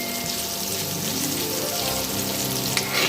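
Pieces of elephant foot yam fry steadily in oil in a pan on an induction stove, giving a continuous close sizzle with no talking.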